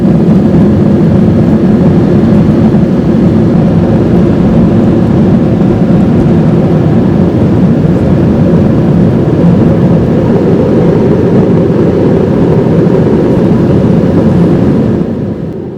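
Cabin of an old Boeing 737-200 jet airliner in flight on a regional route, a loud, steady low roar of engine and airflow noise with no talk, continuous throughout and easing only at the very end.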